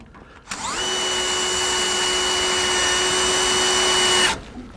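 A Speed Binders Torque Drive power tool on its highest torque setting tightens a trailer chain binder, a loud steady motor whine starting abruptly, holding for almost four seconds, then stopping.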